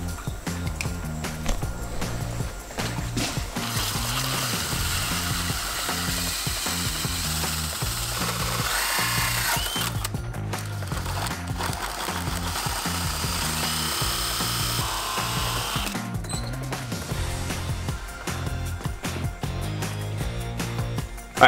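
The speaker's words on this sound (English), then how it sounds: "since the hole saw is struggling to get the last little bit off of the bottom of the other side" A drill-driven hole saw boring a deadbolt hole through a wooden door, a continuous loud grinding with rhythmic chattering and catching as the teeth bite, running steadily for about twenty seconds with no talking.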